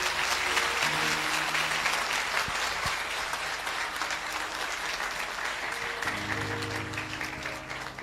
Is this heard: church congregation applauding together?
yes